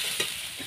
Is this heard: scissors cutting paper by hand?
no